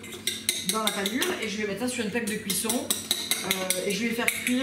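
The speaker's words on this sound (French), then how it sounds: "pardon pour le bruit de l'œuf qui bat" An egg is beaten in a dish with a utensil, making quick, rhythmic clinks and taps close by, running steadily under continuous talking.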